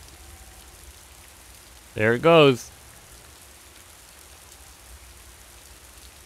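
In the video game Raw Danger, steady rain hisses softly and continuously in the background, interrupted briefly by a short burst of talking midway before the even patter carries on.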